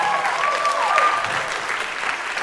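Audience applause fills a jazz ensemble concert hall, a steady wash of many hands clapping at full strength throughout, with a faint sustained tone briefly drifting above the clapping.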